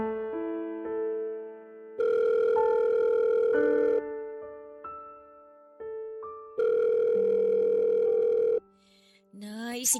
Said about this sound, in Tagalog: Sagutin niyo na po yung tawag.